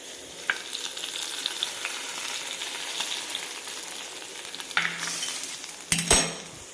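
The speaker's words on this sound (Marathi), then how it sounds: "अभी तड़का तयार है। हे गरम असतानाच टाकायचं" Hot tadka tempering poured into aloo palak bursts into a loud, close sizzle over a steady frying hiss, followed by the clink and scrape of a metal spoon against the pan near the end.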